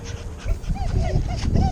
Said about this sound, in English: This dog was happy to see his rescuer because he hated being stuck on a hot roof.